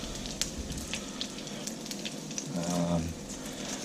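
Whole cinnamon stick and curry leaves dropped into hot oil for an Indian-style goat curry, a steady close sizzle and crackle with small pops and a brief stirring clatter.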